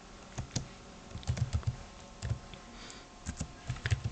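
Keys tapped on a computer keyboard, several short bursts of clicky keystrokes with brief pauses between them, close and fairly quiet, no voices.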